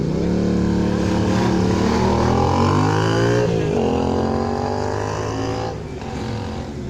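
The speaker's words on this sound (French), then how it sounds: "Kawasaki 1000 ZST, moto de 1979 au départ." A 1979 Kawasaki 1000 ZST motorcycle departs at a vintage motorcycle gathering, its engine loud and close, revving up through rising harmonics, dropping briefly at a gear change, then climbing again before fading a little as it pulls away.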